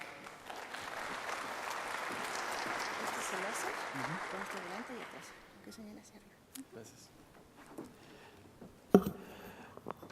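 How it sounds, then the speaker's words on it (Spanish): Audience applause for a speaker at a scientific conference on metabolic syndrome, steady for about five seconds, then fading into scattered knocks and a voice as the speaker begins. "para quien les pido un fuerte aplauso"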